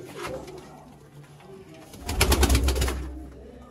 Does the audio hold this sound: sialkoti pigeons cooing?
yes